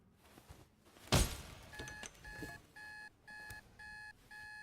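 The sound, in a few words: alarm going off in The Raven video game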